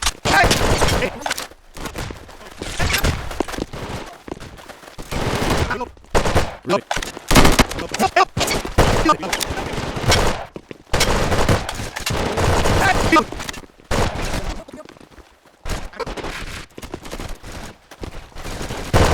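Rifle and automatic gunfire from a Roblox shooting game crackle in uneven bursts and single shots, loud and close, with a player talking intermittently between and over the shots.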